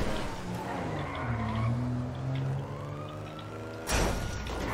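Tires skid and squeal in Grand Theft Auto V as a car struggles to climb a slope, a loud sustained screech with engine drone that cuts off abruptly near the end.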